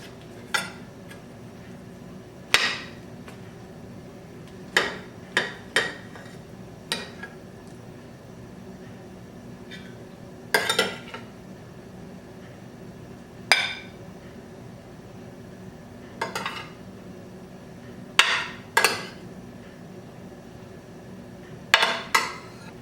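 Metal utensils clink and scrape against a plate and casserole dish while hamburger casserole is served, a series of sharp separate clinks spaced across a quiet kitchen.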